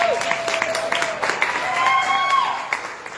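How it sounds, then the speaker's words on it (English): A Republican club crowd in Florida applauds and cheers for the governor, a lively clatter of clapping with a voice and tonal sounds rising over it. "Everyone give Governor DeSantis a round of applause."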